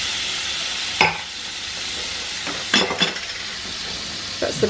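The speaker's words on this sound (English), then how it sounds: "I'm just going to add a wee touch of this stock to the pan" Beef stock splashed into a hot pan used to cook steaks gives a steady hiss of sizzling, with a few sharp clinks and scrapes of a utensil stirring through it.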